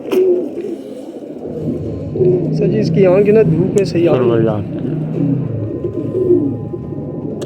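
Pigeons of an old breed coo in low, rolling calls close by, mostly under someone talking throughout.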